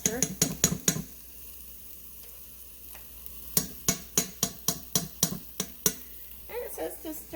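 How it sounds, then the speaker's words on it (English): Onion and minced garlic sauté in a pressure cooker as a spoon stirs them, sharp rhythmic scraping clacks in bursts over a soft sizzle, close by. "it says to stir that around and saute it for about 2 to 3 minutes"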